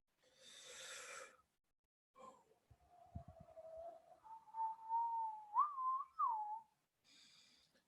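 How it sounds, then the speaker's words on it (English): A person whistles a short, wavering tune in a quiet lecture room, soft and close, preceded by a breathy exhale and a few faint knocks. "I can sit here and whistle."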